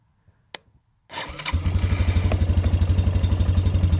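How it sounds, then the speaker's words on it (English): An ATV engine starts after its faulty solenoid is bridged, with a spark snap and a brief cranking whir, then it catches into a loud, close, steady rapid idle thump. "I'm just going to bridge the solenoid because the solenoid's shit here. And this bad boy should fire up."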